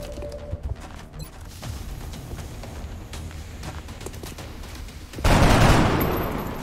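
Gunfire in the tactical game XCOM, with scattered bursts of rifle shots and rattling fire across the scene, ending in a loud, heavy blast that slowly fades.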